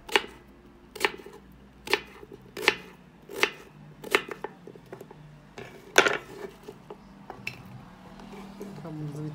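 A knife chops watermelon rind into small cubes on a board in regular, sharp strokes about once a second, then quicker, lighter cuts follow, with a background hum.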